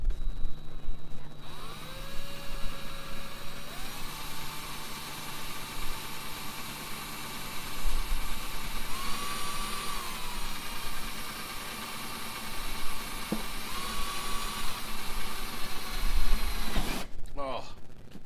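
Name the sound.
power drill drilling through a metal griddle pan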